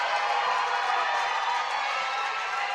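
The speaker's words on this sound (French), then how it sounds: "C'est un point gagnant qui a soulevé la foule ici au gymnase Michel Gagnon." A gymnasium crowd at the Michel Gagnon gym cheers after a winning point in a Division 1 women's volleyball match, a steady, fairly loud roar of many voices.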